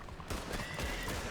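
Horse in the video game Red Dead Redemption 2, a clear whinny over rhythmic hoof clip-clops, fairly close, heard alone.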